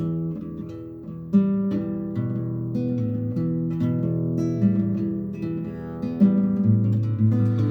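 Guitar notes ring out in sustained, overlapping tones, struck and left to sound like a chiming bell, played alone and up close.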